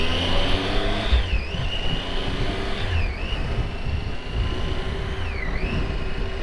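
A steady Triumph Tiger motorcycle engine drone carries a high whistling whine that repeatedly dips and rises in pitch while riding, with no talking.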